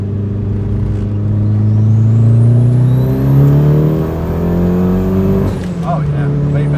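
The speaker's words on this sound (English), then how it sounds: "We're gonna take it for a test drive, which I'll get the video of because this thing is no joke." A Mitsubishi Evo 8 with a hot-wired fuel pump and new fuel pressure regulator pulls hard on a test drive, its engine note climbing steadily under a rising turbo whine before a sharp gear shift, heard loud from inside.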